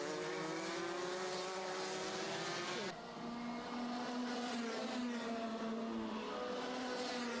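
Racing karts at the Warden Law circuit during an Ultimate Karting Championship round, a steady high-pitched engine whine that rises and falls through corners, fairly distant and continuous.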